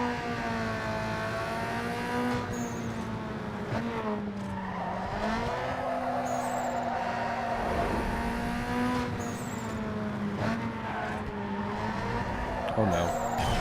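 Mazda RX-7 racing in the video game Need for Speed: Underground 2, a close engine whining and climbing through repeated gear shifts, with revs rising and dropping and brief tire squeals, while a voice talks over it.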